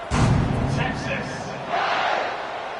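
A football stadium crowd roars ahead of a kickoff, a dense, loud wash of cheering that swells at the start and holds steady, with shouts rising above it.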